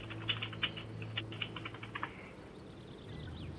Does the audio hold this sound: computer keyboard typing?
yes